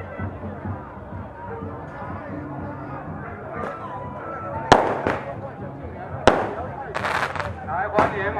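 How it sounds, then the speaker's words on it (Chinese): Firecrackers go off to welcome a temple procession in Pingtung, Taiwan: a few sharp, loud cracks and short crackling bursts break through a murmuring crowd and chatter outdoors. "欢迎迄个鞭炮"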